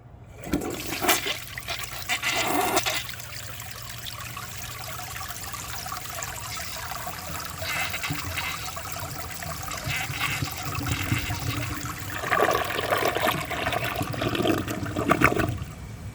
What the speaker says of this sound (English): and then I'm gonna flush it again.